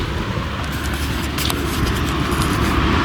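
A car driving steadily along a concrete highway, a continuous loud road and engine rumble throughout with no talk.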